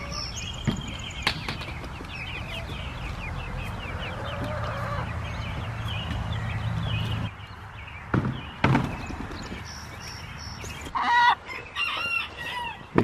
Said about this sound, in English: You sure do like to squawk, don't you?